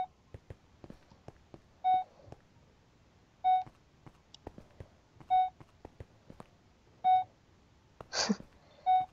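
Regular electronic beeps from a Minecraft map recreating Alien Isolation repeat about every second and a half, clear and alone over faint clicks and a short hiss.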